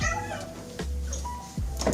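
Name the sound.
cat meowing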